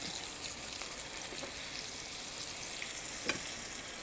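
Continuous hiss and crackle of zucchini frying in hot oil in a pan, steady and close, with a few faint clinks partway through.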